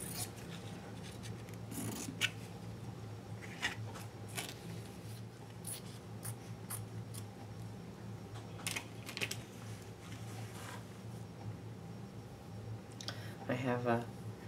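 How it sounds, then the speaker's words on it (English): Fabric scissors cut an oval from cloth pieces, soft intermittent snips and rubbing scattered through a steady room hum, with a faint louder snipping burst near the end. "I'm using my fabric scissors that I have to hide from myself."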